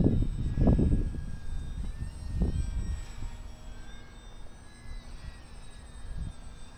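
A UMX Waco RC model airplane flies in gusty 10-15 mph wind, its thin electric motor whine faint and steady while wind buffets the microphone with loud low rumbles, no talking.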